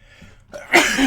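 A single sharp sneeze bursts out after a brief quiet intake, loud and close, with a short breathy tail.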